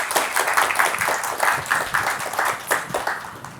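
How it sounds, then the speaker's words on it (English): Applause from a modest audience after a campus lecture on free speech, uneven clapping that rises and falls in small bursts, fairly close, with no talk over it. "Could we give Max another round of applause?"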